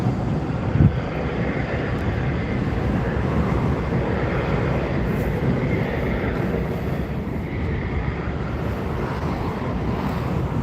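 A Tui airliner lining up on the runway at Newcastle Airport in a crosswind, heard as a steady, continuous roar of engine noise mixed with gusting wind buffeting the microphone throughout.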